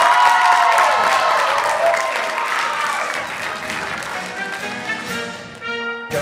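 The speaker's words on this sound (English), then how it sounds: "So how about a big round of applause for our band?" A high school audience at a comedy hypnosis show applauds the band, steady dense clapping that slowly thins, then brief instrument notes sound near the end.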